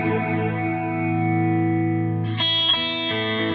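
An electric guitar through a Boss Katana amp's rotary effect at slow rate rings out a chord with a slow, swirling wobble, then a new chord is struck and keeps slowly undulating.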